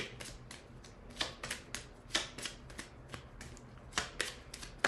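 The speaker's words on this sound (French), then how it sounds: "Je vais prendre une carte de tarot pour compléter." Tarot cards being handled and drawn from a deck, with a run of crisp, papery flicks and snaps close up, some sharper than others, and no talking.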